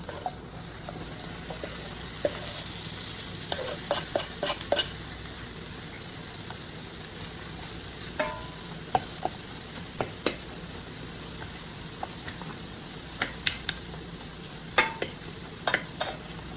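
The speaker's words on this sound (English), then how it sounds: "Put the pan over medium heat, and when it's melted, add the mushrooms." Mushrooms cooking in melted butter in a pan over medium heat give a low, steady sizzle broken by scattered clicks and scrapes of stirring, with no talking.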